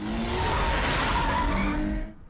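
A car engine in Batman: The Telltale Series roars loudly with tire squeal and skidding noise, holding steady for about two seconds before cutting off abruptly.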